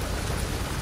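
Steady rain falls and patters on a hard surface in Makkah, Saudi Arabia, a dense, even hiss with no voices.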